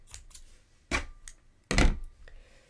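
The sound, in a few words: scissors cutting yarn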